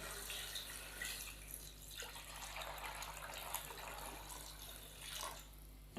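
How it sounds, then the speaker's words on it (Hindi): Water pours into a cooking pot of spiced chicken nihari masala, about four glasses added, giving a steady, moderately faint running splash that continues throughout with no talk. "तो अभी हम इसके अंदर पानी शामिल करेंगे।"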